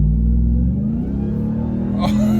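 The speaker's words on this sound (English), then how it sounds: "you definitely hear the supercharger more in this" A supercharged RAM TRX pickup truck engine revs hard with a rising supercharger whine, rumbling loudly and close, then roars up sharply near the end.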